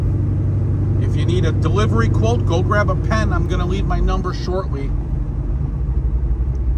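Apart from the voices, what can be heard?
1970 Chevrolet Chevelle driving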